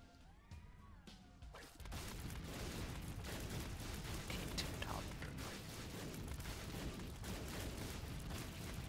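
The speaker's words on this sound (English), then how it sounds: "it's my tech shots that are doing the exploding today" Explosive tech shots fire continuously in The Binding of Isaac: Repentance, a dense, loud barrage of crashing blasts and impacts that kicks in after a brief quieter game lead-in and keeps going without a break.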